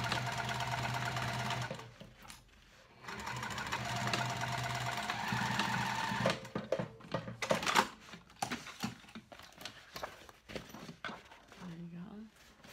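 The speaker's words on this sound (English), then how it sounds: "I'm gonna backstitch super good on this because this handle is gonna be bearing a lot of the weight" A sewing machine stitches a seam on a lined cork dopp kit handle, running in a steady whir, pausing, then stitching again in short back-and-forth bursts for a backstitch, close up, with faint talk in places.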